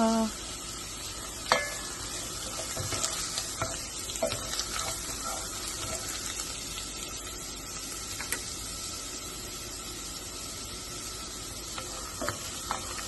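Ginger slices browning in a frying pan, giving a soft continuous sizzle with occasional scraping stirs, moderately quiet and alone without talk.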